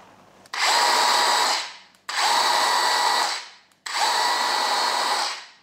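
A Mollar CCS20500 cordless brushless circular saw spins up three times, each run a steady high whine that holds for about a second and then winds down, close and clear.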